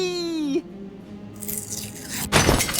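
A bird crashes through a stained glass window in the game Deponia Doomsday, heard as a sudden loud glass shatter near the end, after a short wailing tone and quieter game ambience.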